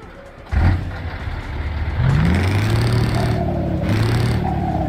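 Scania 164L truck with a modded V8 crackle exhaust sound in Euro Truck Simulator 2, cranking then firing into a loud, deep idle that rises with a couple of revs, heard alone.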